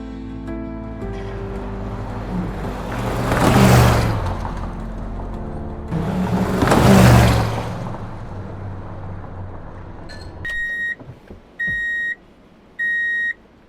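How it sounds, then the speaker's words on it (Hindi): A big car pulls up in an animated village story: two swelling whooshes of a vehicle passing close, then the engine fades and three short electronic beeps sound in quiet. "एक बड़ी सी कार आकर रुकी।"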